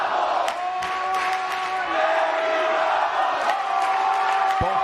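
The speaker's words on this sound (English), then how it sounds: "you hear the crowd chanting Eddie Bravo." A large arena crowd at a jiu jitsu match between Eddie Bravo and Royler Gracie chants and cheers loudly and steadily, a dense sustained roar of voices with sharp bursts of shouting throughout.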